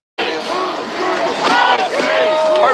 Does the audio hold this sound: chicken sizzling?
no